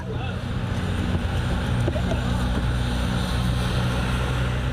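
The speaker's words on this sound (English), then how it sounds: "Up here, the wind is slightly strong." Strong wind roars steadily across the microphone outdoors beside an airport runway and racetrack in Hong Kong during a cycling race, a constant low rumble with a voice speaking over it.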